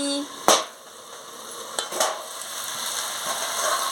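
Pumpkin and shrimp chorchori being stir-fried in a pan just after the lid comes off: a steady close sizzle with a few sharp spatula scrapes and knocks against the pan.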